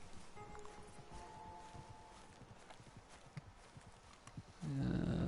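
A horse in the video game Red Dead Redemption 2 plodding along with faint, evenly spaced clip-clop hoofbeats and light rustling, ending in a sudden loud low rumble.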